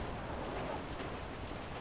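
Steady rainfall in the Grand Theft Auto 5 video game, a continuous broadband hiss with no breaks, moderately loud and heard alone for under two seconds.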